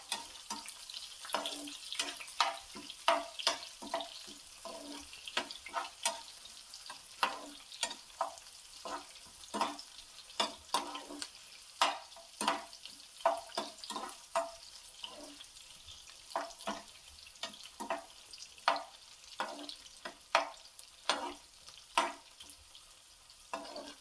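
Onion, garlic and ginger frying in a pan for cashew curry gravy, with a steady sizzle broken by frequent sharp scraping stirs at an irregular rhythm, close and fairly quiet, with no voices.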